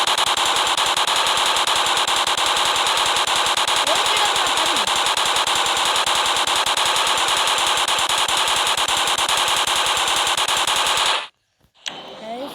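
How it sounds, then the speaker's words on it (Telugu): Rapid, unbroken machine-gun fire from the video game Indian Bike Driving 3D, loud and relentless for several seconds before stopping abruptly. "మసీన్ గన్ తీసుకొని పేర్చేస్తాం"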